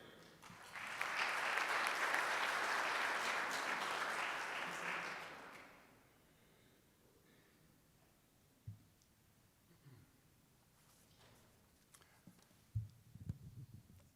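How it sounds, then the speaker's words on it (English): Audience applause at a Rotary club meeting award presentation, a dense burst of clapping lasting several seconds before fading out, followed by quiet room sounds and a few soft knocks. "Another round of applause for him."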